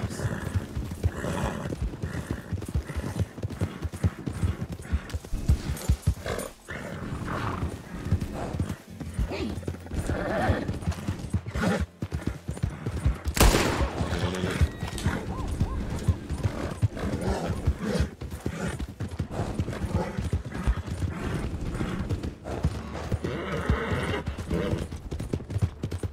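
Horse hooves clip-clopping steadily in a video game, a continuous rhythmic clatter with occasional whinnies and bursts of gunfire-like noise, with a voice talking over it.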